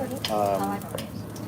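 Fish fries lightly in a pan, its dried skin giving off a soft, steady sizzle with very little spitting, heard close up and alone for a brief moment.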